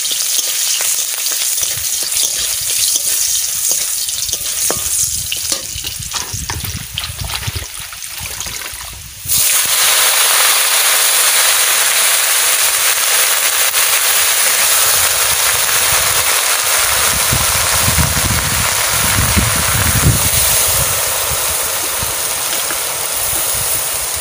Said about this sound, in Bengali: রসুন আর লঙ্কা একসাথে দিয়ে দিচ্ছি